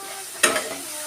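A mustard-based potol fish curry gets stirred in a pan, with one short, close scrape of the spoon rising briefly above a faint background sizzle.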